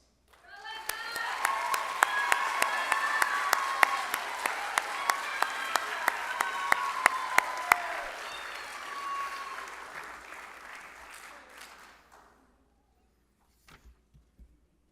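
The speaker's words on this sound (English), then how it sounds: "One more round of applause" Sustained audience applause for school spring play award winners, a dense wash of many hands clapping with sharp individual claps standing out, building then fading out near the end, with brief voices mixed in.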